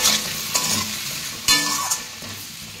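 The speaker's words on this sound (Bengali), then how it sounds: "লবণ, হলুদ আর আদা দিয়ে সজনে ডাঁটা দিয়ে ভালো করে কষিয়ে নিলাম" Drumsticks frying in oil with salt, turmeric and ginger, heard as a close, steady sizzle broken by a few scraping stirs of a spatula, with no talk.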